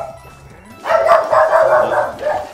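Game dog in Super Mario Odyssey barks in a quick run of loud, close yaps that keep going for about two seconds over faint game background sound.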